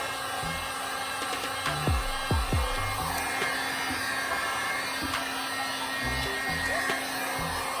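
A heat gun warms a reflector on a 2020 Harley-Davidson Road Glide, its steady blower whoosh running throughout under a few low knocks and handling clunks, close and fairly even.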